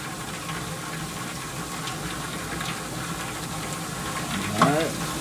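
Popcorn tumbles steadily in a mixer while dill pickle seasoning is sprinkled over it, a continuous soft rattling rush with a brief louder clatter near the end.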